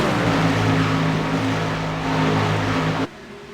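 Racing trucks at Texas Motor Speedway under green flag, a sustained loud engine roar from a pack of trucks at speed that cuts off abruptly near the end.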